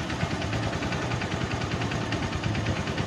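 Supremo 150 HD motorcycle engine idling steadily up close, a continuous loud mechanical chug with a fast even pulse and no talk over it.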